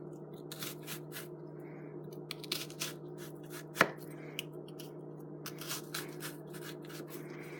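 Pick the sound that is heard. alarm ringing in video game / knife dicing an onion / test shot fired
knife dicing an onion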